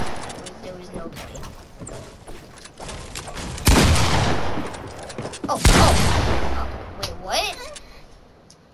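Gunfire in Fortnite Chapter 3, a few sharp bursts of shots standing out over quieter game sounds, with louder blasts near the middle and talking throughout.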